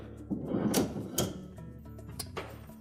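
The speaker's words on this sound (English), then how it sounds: "drawer extensions all the way out." Extension rails on a Whirlpool refrigerator drawer are pulled all the way out, giving a few close metallic slides and clicks with rattling knocks over low background hum.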